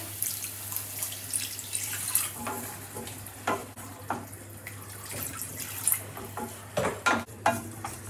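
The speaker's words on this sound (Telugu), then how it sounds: "నేను వాటర్ వేస్తున్నానండి దీంట్లో." Water is poured into a simmering paneer butter masala gravy with stirring, giving a soft continuous sizzle and splashing broken by louder scrapes and pouring bursts, close to the microphone and free of talk.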